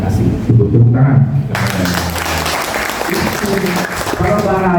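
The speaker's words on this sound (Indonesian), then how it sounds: "Tepuk tangan." A round of applause from the audience at a campus talk show on earthquake mitigation, a steady wash of clapping with speech running underneath and over it.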